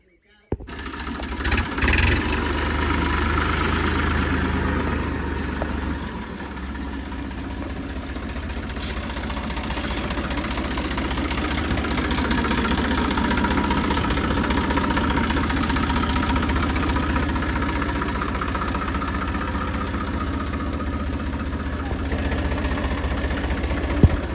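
A Massey Ferguson 245 tractor of about 50 hp idles steadily throughout, a continuous low rumbling chug with a faint knocking texture, close by, with no breaks.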